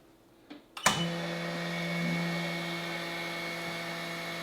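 Vacuum sealer drawing air from a bag of burger patties, starting with a couple of clicks and a sharp thump, then a steady loud motor hum that holds without break under no talk.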